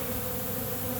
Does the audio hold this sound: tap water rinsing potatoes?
no